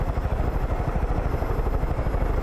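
A helicopter in the video game Far Cry 5 gives off a steady, rapid low rotor thumping with an engine whine, close and continuous, with no voices over it.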